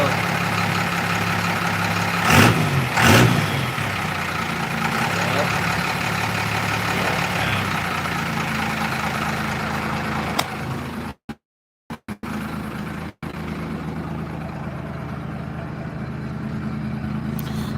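A 2020 Dodge Cummins 3500 diesel truck idles with a steady low rumble, close by, while someone talks over it; a couple of clacks sound early and the sound cuts out briefly a few times.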